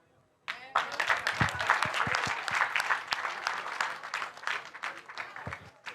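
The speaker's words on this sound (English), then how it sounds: "You guys clap." A graduation party audience bursts into applause after a brief near-silence, with many hands clapping densely and steadily for several seconds before the clapping slowly thins out and fades.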